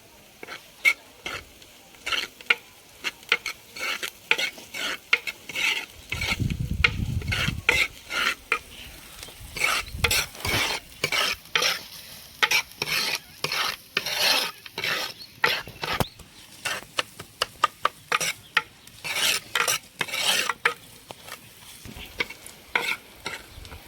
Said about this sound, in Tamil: இஞ்சியும் பூண்டும் தட்டி வச்சுருக்கோம், அதையும் இப்போ போட்டு வணக்கலாம்.